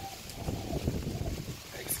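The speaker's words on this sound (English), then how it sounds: "Excuse the wind, it's really windy today." Low rumbling wind buffeting a microphone outdoors, steady and close, with faint background noise.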